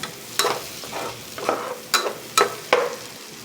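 Pancit bihon noodles being stirred and tossed in a frying pan, with about six sharp scraping strokes spaced roughly half a second apart over a steady soft sizzle, close by and alone.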